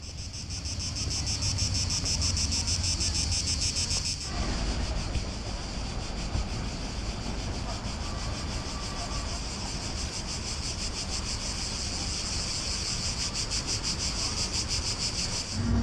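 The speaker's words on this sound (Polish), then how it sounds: "I to jest ta słynna plaża." Surf washing onto a well-known beach in Croatia, with a steady high insect chorus of crickets over continuous wave noise, no voices, one abrupt shift partway through.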